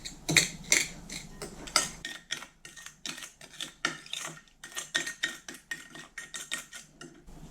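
A spoon scrapes and taps rhythmically against the inside of a bowl, rubbing yeast with sugar in a fast series of short strokes with brief pauses.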